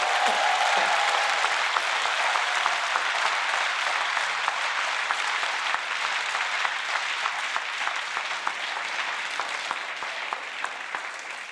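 Sustained applause fills a parliament chamber during the European Commission President's presentation of the new Commission. Dense, even clapping continues throughout and fades slightly toward the end.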